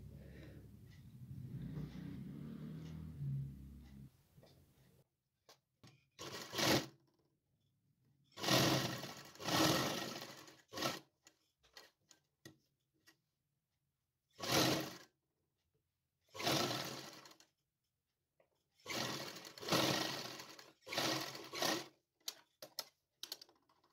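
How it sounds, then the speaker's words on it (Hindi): A sewing machine stitches a small dhoti for a Krishna idol in bursts of rapid mechanical whirring, several runs separated by quiet pauses, close and clear with no talking. "आइए सिलाई लगाना शुरू करते हैं"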